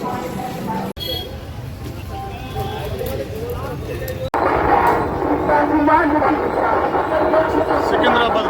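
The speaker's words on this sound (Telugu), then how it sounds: "ఇది మేము వచ్చిన ట్రైన్ ఇది." A train stands at Secunderabad station, its broad rumbling noise continuing steadily and growing louder partway through, with people talking over it.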